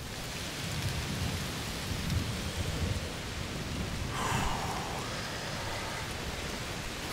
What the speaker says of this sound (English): Must be a heat storm.